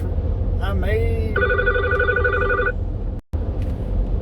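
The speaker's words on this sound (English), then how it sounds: "I had to answer a phone call there" A telephone rings in a room with two steady electronic ring bursts over a faint background hum, the tone rising at first then holding level for about a second and a half before stopping.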